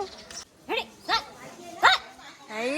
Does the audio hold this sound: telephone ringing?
no